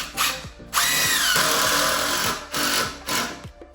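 Power drill driving a large 6 by 100 mm screw into timber for a gallows bracket, several loud close bursts of whining motor that rise and bog down under load, with short pauses between pulls.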